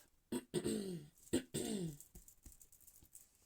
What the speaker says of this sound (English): Yeah, I had to clear my throat.